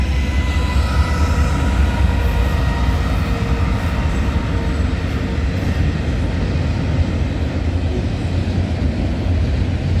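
A CN eastbound freight train, symbol X276, led by locomotive 3422, passes at night with a continuous loud rumble and roar of wheels on rail, steady throughout and close by, with no voices.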